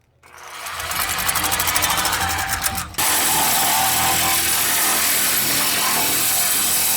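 A power tool bites into steel on a truck frame, starting with a loud, rapid rattling buzz that then shifts into a steady, harsh grinding roar, close and continuous.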